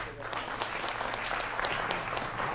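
Studio audience applause on a Hindi TV debate show, a steady, fairly loud wash of clapping hands sustained throughout, with faint voices mixed underneath.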